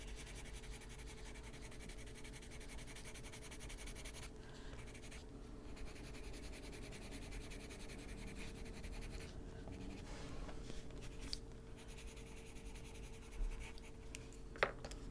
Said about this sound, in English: That may sound scratchy on the microphone because it's closest to the pencil